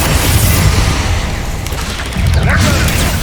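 Hogwarts Legacy combat with the Bombarda blasting spell sets off loud booming blasts. They overlap in dense rumbling noise, and a second impact lands about two seconds in.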